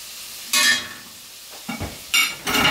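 Coconut oil melting in a hot pan on a home kitchen stove, giving short bursts of sizzle and stirring scrapes that rise and fade over a few seconds, with no talking.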